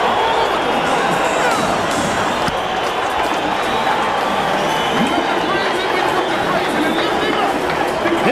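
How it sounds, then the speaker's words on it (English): A sellout boxing arena crowd roars as Evander Holyfield enters for his rematch with Mike Tyson, a dense, loud, sustained wall of cheering and chatter that swells steadily, with a commentator's voice under it. "And the crescendo from the sellout crowd builds."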